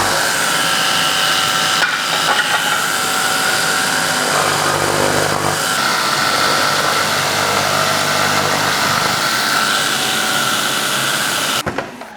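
A chainsaw runs continuously and loudly, cutting wood during a basement staircase remodel, with a harsh steady roar that dips briefly around mid-cut and stops abruptly at the end.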